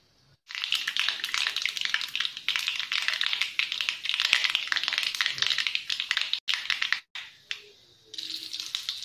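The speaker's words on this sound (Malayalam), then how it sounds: "ഇനി ഇതിലേക്ക് ഒരു അര ടീസ്പൂൺ കടുക് ഇട്ട് കൊടുക്കാം" Half a teaspoon of mustard seeds splutter in hot coconut oil for a ridge gourd and toor dal curry tempering. A dense, close, steady crackle of rapid pops runs nearly throughout, with brief gaps near the end.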